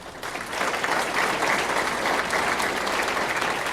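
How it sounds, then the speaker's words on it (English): Steady audience applause at a bowling hall of fame banquet, dense and even clapping from a room full of people that holds at a constant level throughout with no talking. "let's give him a nice round of applause"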